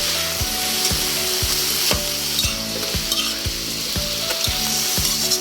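Chopped banana blossom fries in a pan while being stirred, a loud steady sizzle broken by a regular rhythm of wooden scraping strokes about twice a second, with no talking.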